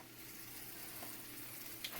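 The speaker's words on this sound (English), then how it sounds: "listen to that nice sizzle" A soft, continuous crackling hiss of butter sizzling in a frying pan for pancakes, steady and close, with no voices.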